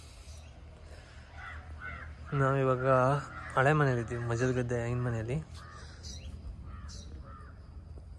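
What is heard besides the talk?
birds calling around the house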